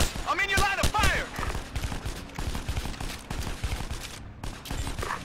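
Rapid gunfire bursts and volleys from the video game Ghost Recon 2, loud and dense throughout, mixed with in-game radio voices calling out orders.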